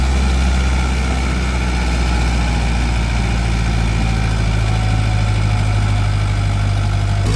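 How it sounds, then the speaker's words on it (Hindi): An Escorts Kubota Digitrac PP 43+i tractor strains as it pulls a rotavator through ploughed soil, its engine giving a loud, steady, close-up drone with no break. "ये देखो किस तरीके से ट्रैक्टर जोर लगा रहा है।"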